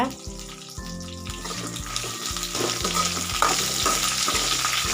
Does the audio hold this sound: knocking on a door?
no